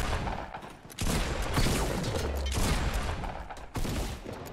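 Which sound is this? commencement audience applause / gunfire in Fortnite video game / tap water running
gunfire in Fortnite video game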